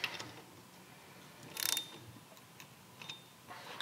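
Ratchet tightening a part during a motorcycle bagger foot control install, faint close clicks and a short burst of ratcheting with small metallic ticks.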